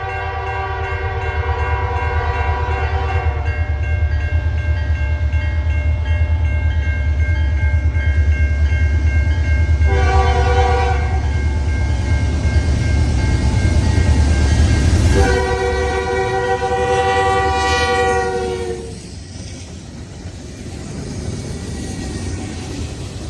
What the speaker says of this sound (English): This train actually had 2 9WLs leading, and in between them was a BC Rail Dash 9.